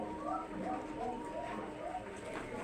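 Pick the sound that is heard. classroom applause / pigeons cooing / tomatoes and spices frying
pigeons cooing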